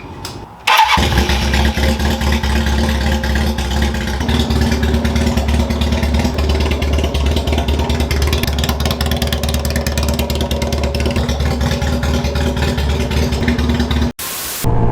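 A loud custom café racer motorcycle engine starts after a brief pause and runs close by, holding a steady, rough, throaty idle with slight rises in revs until it cuts off near the end.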